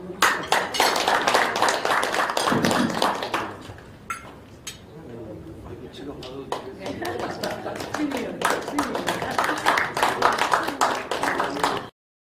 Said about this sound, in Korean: 저희 큰 박수를 보답하겠습니다